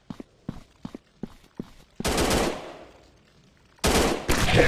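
Gunfire in a first-person shooter game: a run of sharp, evenly spaced single shots, followed by louder sustained bursts of rapid automatic fire with ringing decay, all close and loud with no talking.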